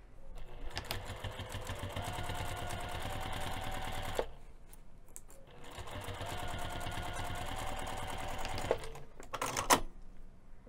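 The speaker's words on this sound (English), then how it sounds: "top stitch the opening closed using your sewing machine." A sewing machine top stitches fabric in two long steady bursts of rapid stitching, close by, with a short pause between and clicks at the end.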